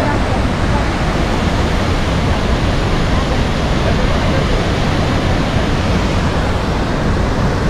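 Kheri waterfall near Maneri Dam in Uttarakhand roars in a dense, steady rush of falling water, loud and unbroken from nearby.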